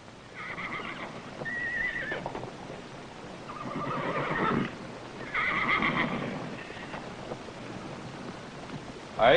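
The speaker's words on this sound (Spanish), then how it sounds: "Un gran potro negro, un maravilloso ejemplar de la crianza de la Ponderosa." A black colt neighs at a horse auction, loud whinnies repeating in several bursts across the clip, with a faint clip-clop of hooves beneath.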